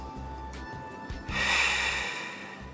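A deep breath during a postnatal pilates exercise, a single audible nasal exhale rushing out in a soft hiss close to the microphone over a faint low hum.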